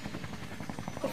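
Helicopter rotor chop in the shooter game Max Payne 3, a brief steady pulsing drone at moderate level.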